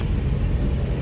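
A mini truck climbs the Koyambedu flyover in heavy Chennai traffic, producing a steady, loud low rumble of engine and road noise from inside the cab, with no voices.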